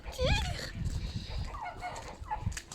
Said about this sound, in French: Attention les canards, poussez-vous.